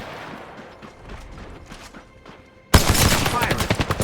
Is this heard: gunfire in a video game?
yes